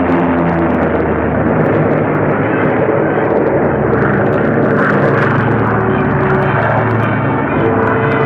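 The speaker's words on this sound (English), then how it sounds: "Bombers went out, and 6 are coming back." Bomber aircraft returning to an airfield in the Aleutians, a loud, steady droning roar of engines that fills the whole stretch without a break.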